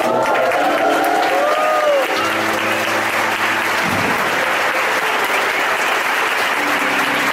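A church congregation at a celebration service applauds loudly and continuously for a pastor, with some voices and tonal sounds mixing in during the first couple of seconds.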